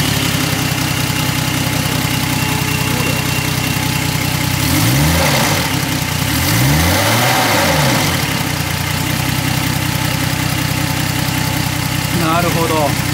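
A 1980 Nissan Skyline KGC210 with a turbocharged SOHC engine running, a loud steady idle with a couple of brief revs rising and falling in the middle, and people talking nearby.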